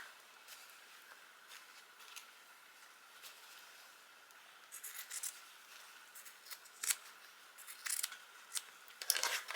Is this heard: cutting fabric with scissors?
yes